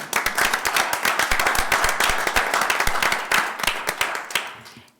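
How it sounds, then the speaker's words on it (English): A school board meeting audience breaks into lively applause, dense close clapping that runs steadily for several seconds before tapering off at the end. "a round of applause for Bonnie Groover"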